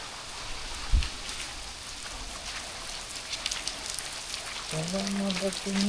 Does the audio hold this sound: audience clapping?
no